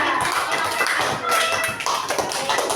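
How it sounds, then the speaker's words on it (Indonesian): Classmates applaud a group after a classroom experiment, giving a dense burst of hand claps close by with scattered voices mingling in throughout. "Tepuk tangan untuk kelompok kedua."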